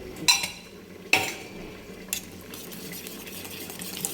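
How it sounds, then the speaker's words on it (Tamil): A metal whisk mixes a batter of gram flour and rice flour with crushed pepper and cumin, giving a few faint, sparse clinks against the bowl over a quiet kitchen background. "விஸ்க் வச்சு நல்லா கலந்துடும்"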